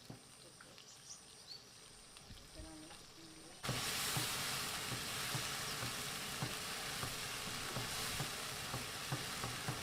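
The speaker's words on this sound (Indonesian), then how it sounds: "masukkan bumbu halusnya tadi. Dan masak sampai tanak ya teman-teman" Ground spice paste sizzles and fries in a hot pan for an Indonesian fried chicken dish, quiet at first then jumping to a loud, steady crackling hiss after a few seconds, with occasional stirring scrapes.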